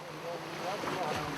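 Rough sea waves near a boat, offshore at an ocean ranch site: a steady, dense wash of surf and wind noise that stays loud throughout, with no clear voices.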